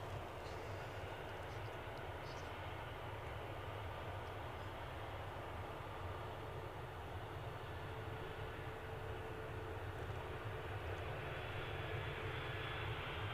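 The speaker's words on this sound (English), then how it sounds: "Looks like an EasyJet. Inbound from Bristol." An EasyJet airliner inbound from Bristol arrives at Edinburgh airport, giving a faint, distant, even engine rumble and hiss that holds steady and swells slightly near the end, with no talking.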